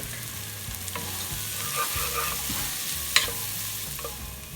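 Carrots, finely chopped celery and other vegetables sauté in a pot for alphabet soup, giving a steady close sizzle with stirring scrapes throughout and one sharp utensil clank near the end.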